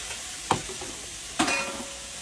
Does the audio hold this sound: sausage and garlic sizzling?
yes